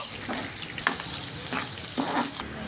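Ginger, garlic and green chillies frying in a pan for a tuna fish curry, a soft, even sizzle with a few quiet stirring scrapes and taps spaced across the moment, heard close.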